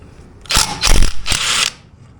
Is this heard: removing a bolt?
yes